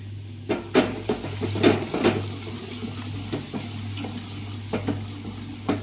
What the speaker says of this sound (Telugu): మీరు కూడా ఎండుమిరపకాయ చూసారా మొత్తం కలిపేద్దాం